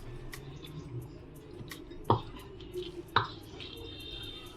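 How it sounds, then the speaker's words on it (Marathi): A cooked tomato mixture for tomato thecha is mashed by hand, giving soft wet squelches and faint drips. Two sharper knocks of the masher stand out midway, close up and quiet. "हे मिश्रण छान असं मॅश करून घ्यायचं"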